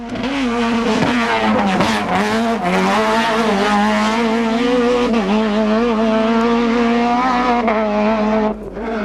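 A kit car's engine screams at high revs on a 1996 Manx International Rally stage, rising and falling through gear changes as it charges along, with tires skidding at times.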